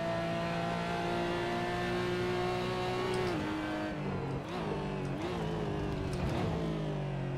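A Porsche GT4 race car engine in Assetto Corsa at Laguna Seca, a loud steady drone that holds high revs, then dips and climbs through gear changes and throttle lifts, continuous and without talk.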